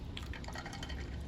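Water running and splashing over a muddy toy monster truck as it is rinsed clean, a steady close wet trickle and spatter throughout with no voices.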